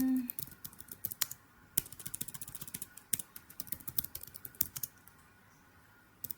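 Fingers tap out values on a computer keyboard in quick, uneven bursts of clicks, fairly close and moderately quiet, with no speech over them.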